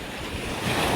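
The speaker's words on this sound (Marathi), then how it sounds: "नुसता बघा लाटा खवळायला आल्यात नुसता." Rough sea waves churn and rush continuously at Niviti Beach on the Konkan coast, a loud broad surf roar mixed with wind noise on the microphone.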